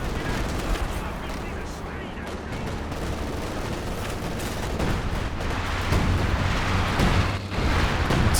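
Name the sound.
Katyusha rocket artillery barrage in video game Company of Heroes 2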